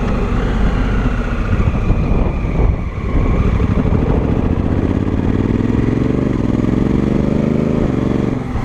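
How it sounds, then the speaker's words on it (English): A 2016 Honda Africa Twin with the DCT automatic gearbox and a dB killer fitted idles and revs nearby, a loud continuous engine drone rising in pitch toward the end, with no voices. "it's a 2016 Honda Africa Twin with the DCT automatic"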